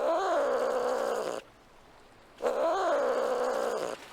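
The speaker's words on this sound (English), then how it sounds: "You always know it's my dinghy when you hear the cat horn." A cat-sound horn on a dinghy in the Nancy Drew: Sea of Darkness video game, set in Iceland, gives two long, loud meow-like wails, each about a second and a half, separated by a short silent gap.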